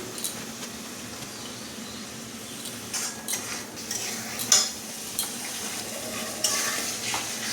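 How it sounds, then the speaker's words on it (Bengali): Spice paste of ginger, tomato, chilli powder, cumin, coriander and a little turmeric fries in a pan, giving a steady soft sizzle with scattered scrapes and clinks of a utensil stirring it, close and without talk. "মশলাটাকে হালকা করে কষে নিচ্ছি।"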